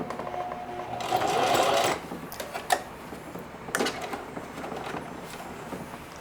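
A sewing machine stitches denim in a practice session, running in stop-and-start bursts with a louder stretch near the start, then a few short runs and clunks at moderate volume.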